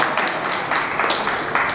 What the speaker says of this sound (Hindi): आप एक बार उनके स्वागत में अभी तालियां बजा सकते हैं।